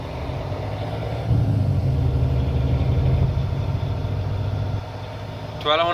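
A truck engine held steady at 1200 RPM for an air brake test, a continuous loud diesel drone close by, with a voice talking over it.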